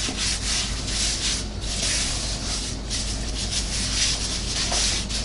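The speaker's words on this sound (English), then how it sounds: "just kind of rub it around and give it a little coat, very light coat" A light coat being rubbed by hand onto wood, heard as a continuous close scratchy rubbing and swishing with soft rhythmic strokes and no talk.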